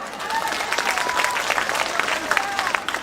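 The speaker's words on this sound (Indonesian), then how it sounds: "Tepuk tangan buat Banser." A crowd at an Islamic lecture gathering in Taiwan applauds the Banser guards, producing dense, sustained clapping that fills the hall at an even level for a few seconds.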